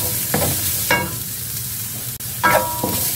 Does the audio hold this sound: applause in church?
no